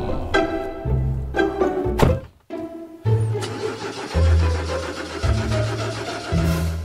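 A car engine cranks and struggles to start, repeated low rumbling bursts broken by a brief pause, close and fairly loud with no talking.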